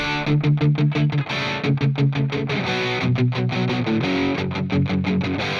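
Distorted electric guitar chugs in tight palm-muted bursts, each note cut short, rhythmic and driving with shifting pitches and a chorus-tinged sheen.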